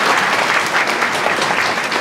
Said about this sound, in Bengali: স্যারের জন্য একটা করতালি আমরা আশা করি